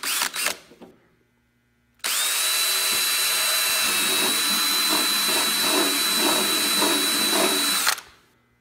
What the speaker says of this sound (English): when you're drilling through any of this stuff like this, we love these step drills